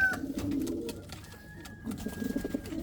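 A fantail pigeon coos in a breeding loft, a soft low rolling call repeated in two close bursts, faint and near, over a quiet background with light rustling and a brief thin whistle-like tone.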